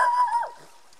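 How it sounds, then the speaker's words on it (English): A dog near a Scottish bothy gives a single short, close yelping bark at a campsite, followed by a quick second yip at the very end. "dog barking"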